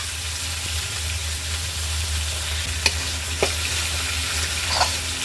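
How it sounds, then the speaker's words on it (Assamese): Small fish and dal fry in hot oil in a home kitchen, a continuous soft sizzle with a low steady hum beneath and a few faint clicks of utensils. "এয়া ভজা মাছ এতিয়া দিম এয়া দালিখিনি দিও অকণমান টাইম ভাজিম"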